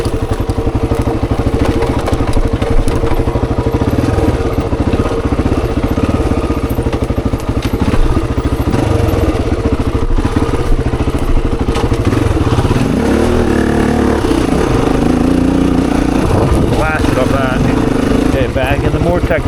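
Honda XR400 dirt bike ridden off-road on a technical, off-camber trail loop. Its engine drones loud and steady throughout while it rumbles, revs up and down, and knocks and clatters over rough ground. There is no talking.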